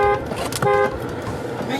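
A car horn sounds in two short, loud toots close by. A steady vehicle rumble and some background noise run underneath.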